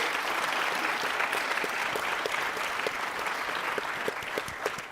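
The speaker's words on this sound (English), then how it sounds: "Let's get a round of applause for..." An audience applauds after a lecture on the political future of artificial intelligence, steady dense clapping filling the room for several seconds without letup.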